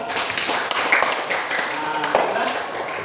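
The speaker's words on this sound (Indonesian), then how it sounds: "Kasih tepuk tangan untuk Irul." Scattered applause in a classroom for a student named Irul, a handful of claps that are fairly close and uneven, with voices murmuring underneath.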